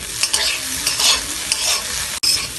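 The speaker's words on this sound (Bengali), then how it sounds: "ডিমটিকে ব্যবহার করে সবজিগুলোর সাথে 2 থেকে 3 মিনিট আরেকবার ভালো করে ভেজে নিতে হবে।" Egg and vegetables frying in a pan, with close, continuous sizzling and repeated scraping and stirring from a spatula, and one brief cut near the end.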